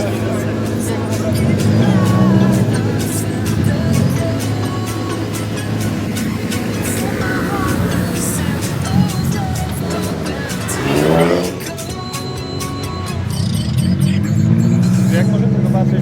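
Race cars at a hill climb race in Magura Małastowska rumble and rev nearby, engines droning and swelling as cars pass, with crowd noise and people talking around them.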